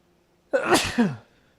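A single person sneezes close to the microphone. The sneeze is one sharp, loud, breathy burst lasting about half a second and ends abruptly, with quiet before and after.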